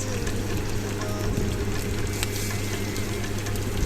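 Onions fried until reddish sizzle steadily in a pan as chopped tomato and green chili go in for a noodle dish, a continuous close frying hiss with light stirring and no talking.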